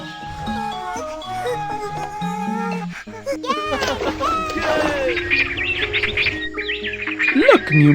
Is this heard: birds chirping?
yes